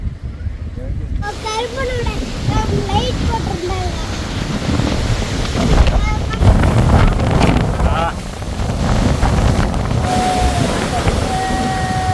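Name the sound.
strong wind on a hillside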